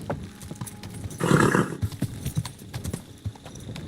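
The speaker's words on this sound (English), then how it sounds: "Easy, good horse." Horse hooves clip-clop steadily in Kingdom Come Deliverance II, with a loud whinny rising over the steps early on before the trotting continues alone.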